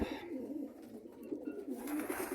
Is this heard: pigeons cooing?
yes